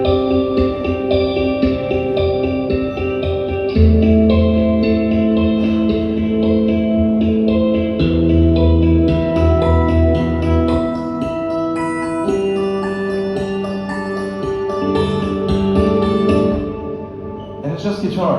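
Guitar doubled onto a second track pitched upward, producing a sustained, bell-like ringing tone that sounds almost like a synthesizer, with chords shifting every few seconds and a shimmering wash of echo before fading out.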